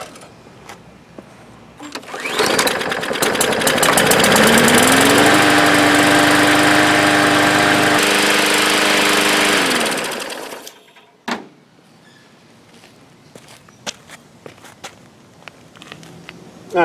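A Briggs & Stratton 300E lawn mower engine, recently repaired for a gas leak, runs with a loud steady drone close by for several seconds, then shuts down and leaves quiet clicks and small handling sounds.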